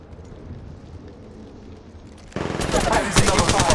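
Sudden loud automatic gunfire from the battle royale shooter Apex Legends Mobile breaks in after a quiet stretch and carries on as a dense, rapid stream of shots to the end.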